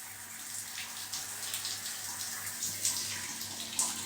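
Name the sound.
water running sound effect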